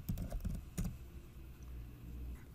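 Login credentials are typed on a computer keyboard in a quick run of close keystrokes, with a louder tap near the end followed by quiet room tone.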